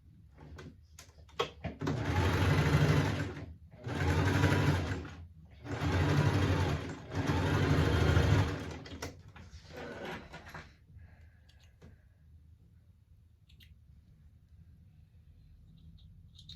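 A sewing machine stitches a small fabric basket in four loud bursts of rapid whirring separated by brief pauses, followed by quiet handling; no talking.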